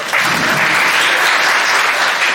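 Sustained applause from an audience at a retirement function, a steady dense clapping that is loud and continuous throughout, with no voices over it.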